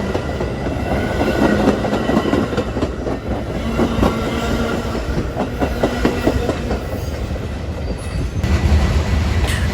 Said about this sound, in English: we barely make it in time to see MDW 2701 with Metro 502 in the lead